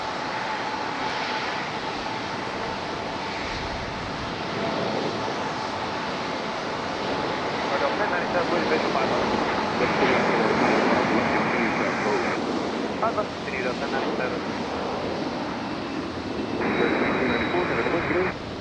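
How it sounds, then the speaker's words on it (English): An Air Canada airliner departs Raleigh-Durham airport, its jet engines a steady broad roar that swells gradually over the length of the clip. Wind rushes across the microphone throughout. "Air Canada on the move, departing back to, I think, Toronto"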